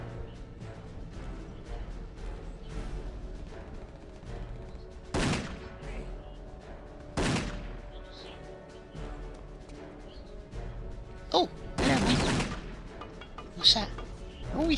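Gunfire in Return to Castle Wolfenstein: several sharp shots and short bursts ring out at irregular intervals over game ambience, with a player talking in between.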